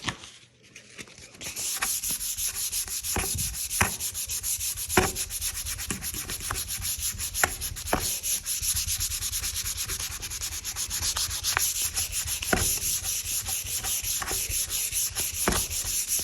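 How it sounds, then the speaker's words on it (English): Hand sanding with 220-grit dry sandpaper on a finished wooden surface, a close, steady scratchy rubbing with rhythmic back-and-forth strokes that continue without talk. "I think I'm going to use some 220 dry sandpaper. We'll give it a quick sanding and see how that works out."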